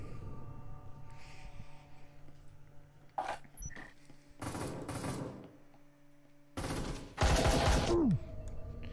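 Video game Breacher in a team deathmatch: several short, sharp bursts of automatic gunfire come and go over a faint background, with the loudest volleys near the end.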